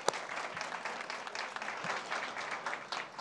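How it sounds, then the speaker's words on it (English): A round of applause at a school district board meeting: a room of people clapping steadily for about three seconds, moderately close but fairly quiet, with no talk over it. "Let's give them one last round of applause."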